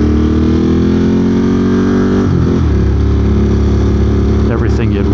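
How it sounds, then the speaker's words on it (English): A 2022 Ducati Monster+ with a Termignoni exhaust runs loud and close with a deep, steady rumble, then its pitch drops midway as the revs settle, with voices faintly present. "There are very few bikes that sound better than a Ducati."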